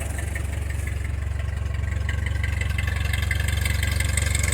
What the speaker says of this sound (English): that's just sitting there at idle and hitting the starter button. Just pops right off and idles.